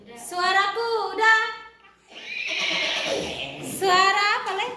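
A person imitates a horse, giving two whinnying neighs with a breathy, hissing sound between them.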